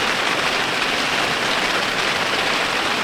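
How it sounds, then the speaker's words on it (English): Heavy rain pours down on a tent in a forest, a loud, unbroken hiss of dense drops that stays steady and close, with no voices. "It's raining so much that the water's starting to creep in"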